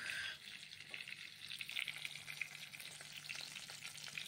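Posto, a vegetarian poppy seed dish, fries in a pan with a steady close sizzle and faint stirring, no voices.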